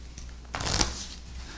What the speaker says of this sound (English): Okay, shuffle your deck, and then lay it out. Oh, shuffle a little more here